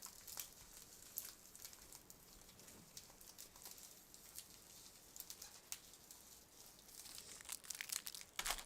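Plastic bag crinkling while being handled, with scattered close crackles and rustles that come in irregular bursts, busier near the end, over faint background noise.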